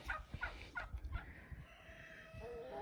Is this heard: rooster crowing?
yes